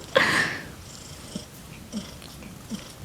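A cat purrs up close with a soft, steady rumble, opening with a brief louder breathy burst, then a few short, faint pulses spaced about a second apart. No one speaks.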